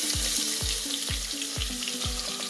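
Finely chopped onion sautéing in hot oil for village-style misal, a steady loud sizzle with repeated low thumps and scrapes of stirring at a regular pace.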